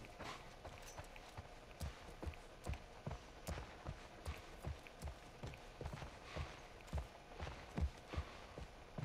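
Horse hooves walking in The Last of Us, a steady run of regular clip-clop footfalls, close and moderately loud, with faint ambient game background and no talk.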